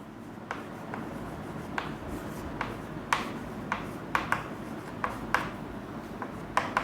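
Chalk or marker writing a statement on a classroom board, with soft scratchy strokes and periodic sharp taps over a low room hum, close and steady.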